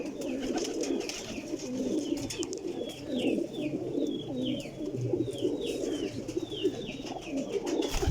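Teddy pigeons coo close by in repeated soft, throaty, rolling calls over a murmur of background noise, with a few faint chirps above.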